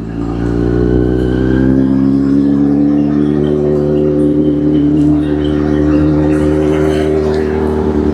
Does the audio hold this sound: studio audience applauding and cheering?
no